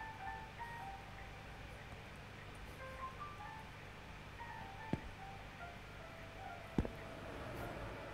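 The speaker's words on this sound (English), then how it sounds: "here comes a truck" An approaching truck in the video game The Convenience Store rumbles steadily as a low, continuous drone, with a few faint tonal chimes and two sharp clicks over it, no talking.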